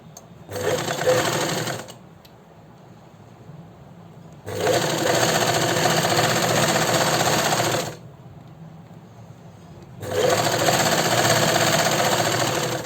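A sewing machine stitches along fabric piping in three steady runs of rapid whirring, each a few seconds long, separated by quieter pauses.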